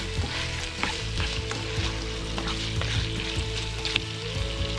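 Tuna belly fries outdoors in a loud, steady sizzle with crackling and spitting throughout, broken now and then by the scrape of stirring, and no talking.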